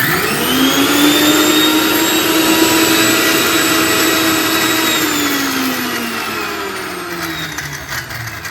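A mixer grinder crushes chutney ingredients for ragda patties with a loud, steady motor whine and a pitch that sags slightly as the load shifts, running alone throughout.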